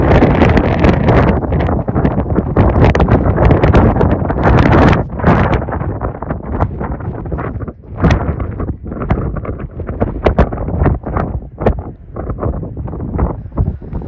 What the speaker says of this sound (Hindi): इस मकाम पर इतनी तेज़ हवा है कि बैलेंस बरकरार रखना बहुत मुश्किल है।